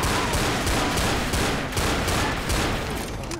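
Rapid, loud video game gunfire crackles in a steady, evenly spaced burst of shots, close and continuous with no talking.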